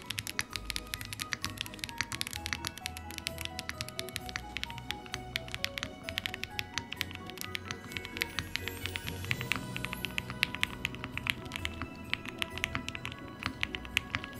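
Rapid continuous typing on a custom Killer65 mechanical keyboard fitted with foams, dense close-up keystrokes with no pauses and no voices.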